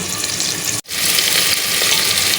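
Beef fat fries in a pan with a loud, close, continuous sizzle, briefly cut off for an instant before resuming at full strength.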